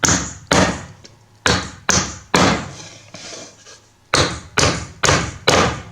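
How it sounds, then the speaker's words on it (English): Nails are hammered into a wooden birdhouse, with about nine loud, sharp thuds arriving in uneven bursts, each strike ringing briefly before the next, close up and without talk. "Now you can set it and actually hammer them in."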